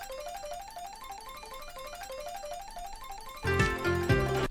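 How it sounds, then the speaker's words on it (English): Slot machine credit rackup music: a quick rising pentatonic figure that repeats in a steady loop of ascending steps, then a louder, fuller burst of chiming tones near the end, with no voices. "we have this credit rackup, which basically is like a rising kind of like, you're winning money sound."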